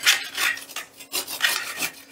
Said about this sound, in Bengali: এবারে একটা গ্রেটারের সাহায্যে এই আলু আর কুমড়োটা আমি গ্রেট করে নেব।